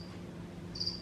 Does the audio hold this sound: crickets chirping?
yes